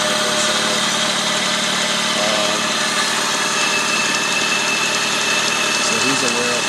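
A car engine idles steadily with a leaking exhaust from a cracked intake or exhaust manifold, a continuous mid-pitched rumble with light vibration and a hissy edge, close by and unbroken for several seconds.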